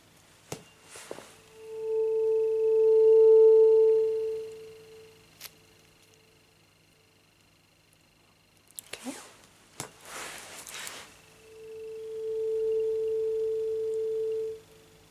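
A steady pure test tone for an ear check during an ASMR space physical exam sounds softly for a few seconds, then returns later after a pause. Faint rustles and clicks come in between, and there is no other sound.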